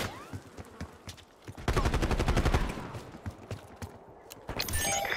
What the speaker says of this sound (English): HVT under fire. Repeat, HVT under fire.